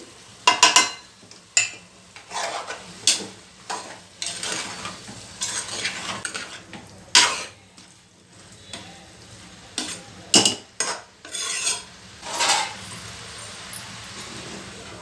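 Spice powders are stirred into a frying curry, with repeated spoon scrapes and clinks against the pan in irregular bursts over a low sizzle and no talking.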